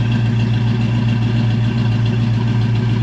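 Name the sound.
custom coupe engine idling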